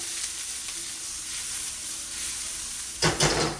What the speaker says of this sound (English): We're gonna start with our onions. So we're just gonna fry these up.